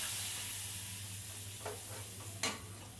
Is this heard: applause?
no